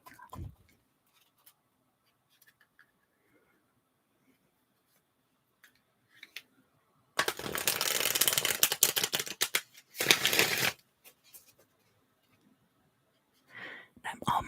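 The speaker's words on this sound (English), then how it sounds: "I'm almost done shuffling your cards, Leo, I promise." Tarot cards being shuffled during a whispered ASMR reading, two bursts of crisp riffling and flicking, close to the microphone, separated by near silence with faint whispering.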